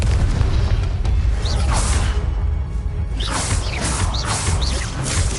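A Confringo spell explodes in the video game Hogwarts Legacy, producing a loud, dense booming blast with whooshing swells and mechanical rumble that fills the whole stretch without letting up.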